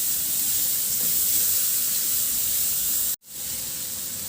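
Onions and garlic sautéing in a pan give a steady close hiss and sizzle that cuts out abruptly for a split second, then resumes.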